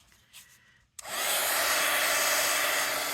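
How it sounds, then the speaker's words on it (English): A heat tool clicks on and blows a loud, steady roaring whoosh, drying shimmer spray on a mixed media craft project after a quiet, rustling start. "I'm going to bring this over here and I'm going to dry it."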